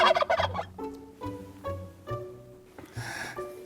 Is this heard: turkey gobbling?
yes